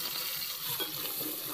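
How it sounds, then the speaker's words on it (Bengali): Cut potatoes fry in hot oil with bay leaf and nigella seeds in a wok, a soft, continuous sizzle with light stirring noise close by. "এখন আলুগুলোকেও এই তেলের মধ্যে আগে ভেজে নেব।"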